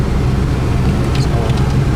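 1981 Camaro Z28 V8 with dual exhaust, a steady low rumbling idle from close by, smooth and even, with faint traffic-like noise around it.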